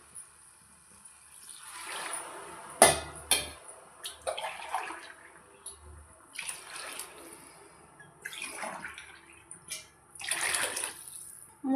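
Three glasses of water poured into a pot of rice for vegetable rice in a home kitchen, arriving in several separate splashing pours with short quiet gaps between them.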